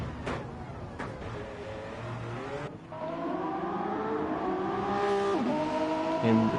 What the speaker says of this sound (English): And the cars exit the pits